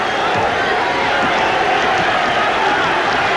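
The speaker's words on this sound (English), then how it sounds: "Crowd yelling defense." Sellout home crowd at the Boston Garden during an NBA basketball game between the Celtics and the SuperSonics, a steady, dense roar of yelling and cheering filling the arena throughout, with commentary voices blended into the wash.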